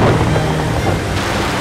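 Ocean waves surge in a dense, roaring wash of water and wind-like rumble, loud and continuous throughout with no voices.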